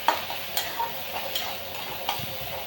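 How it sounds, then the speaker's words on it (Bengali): Onions fry in hot oil with black cumin and green chili, giving a steady soft sizzle with occasional stirring clinks and ticks from the pan, close and alone without talk. "কাঁচা লঙ্কা ফোড়ন দিয়ে পেঁয়াজগুলো ভেজে নেব।"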